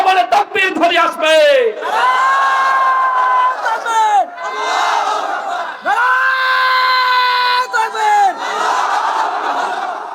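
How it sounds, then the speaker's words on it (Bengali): A large crowd at a daytime Islamic religious gathering in Dinajpur chants the takbir in loud, sustained unison, several drawn-out calls rising and falling in turn, with a few short shouts at the start. "প্রত্যেকের জবানে তাকবীর ধ্বনি আসবে"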